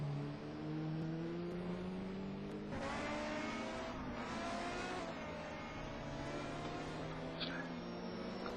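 BMW touring cars racing at Donington Park, engines roaring and shifting pitch continuously as cars accelerate and pass, loud and sustained throughout.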